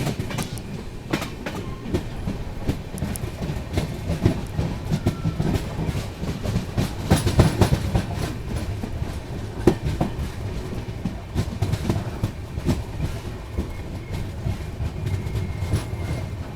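The Hampi Express from Hubballi to Mysuru, heard from inside a sleeper-class coach near Annigeri, rumbles steadily with rhythmic wheel clatter and occasional louder knocks running through the whole stretch, with no talking.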